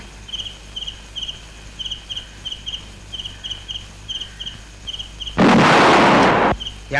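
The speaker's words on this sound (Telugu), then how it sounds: "యాంప్లిఫైర్ పేలినట్టుంది లోన" An amplifier blows up as a comedy film sound effect: a sudden, loud roaring burst of about a second, breaking in after a steady rhythmic chirping of crickets that keeps pulsing in the background.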